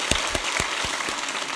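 A church congregation gives a brief round of applause, a handful of distinct claps over a dense wash of clapping, faint and distant.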